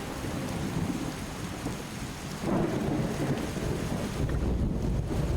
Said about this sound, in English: Oh, it's raining. We love rain